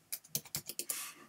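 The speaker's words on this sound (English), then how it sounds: "So I can literally click anywhere on my page and type" Keys on a computer keyboard being typed in a quick burst of about seven distinct clicks, close and fairly quiet, ending in a brief smeared rattle.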